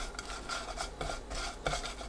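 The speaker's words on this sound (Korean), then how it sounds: "볶아둔 멸치 넣고 골고루 섞어주세요." Stir-fried anchovies tossed into a spicy sauce in a pan, giving quiet, soft scraping and rubbing stir strokes with a few light clinks, close and faint.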